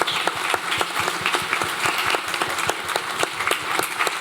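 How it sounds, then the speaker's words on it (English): Audience applause fills a live show at Hockley Social Club, a steady dense wash of clapping with sharp individual claps standing out, sustained throughout at moderate loudness with no talk. "So can we give Andy and the Hockley Social team a round of applause as well?"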